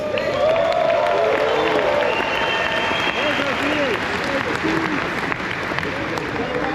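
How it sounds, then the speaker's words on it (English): An audience at a gaming convention claps steadily for several seconds, a dense wash of applause with a few cheers and whoops rising from the crowd. "Applause for Andre and getting new hairs into the game."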